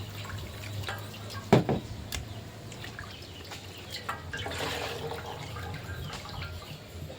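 Jackfruit, potatoes and a fish head rinsed in water in a home kitchen, with soft sloshing, dripping and splashing, one brief louder splash early on, and steady low background noise throughout.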